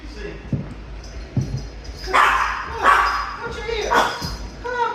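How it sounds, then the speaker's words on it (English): A small white dog yaps a few sharp barks in bursts, close by, with a voice talking in between and low background noise at a house under construction. "What you barking at, Brian?"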